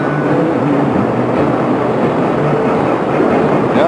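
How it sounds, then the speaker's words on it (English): A freight train rumbles past steadily and loudly, with a heavy low roar and faint rhythmic clatter of wheels running throughout. "Freight train."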